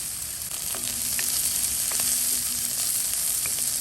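Onions and green chillies frying in a pan with cashews, a steady close sizzle with light crackles and occasional stirring scrapes, no voices over it.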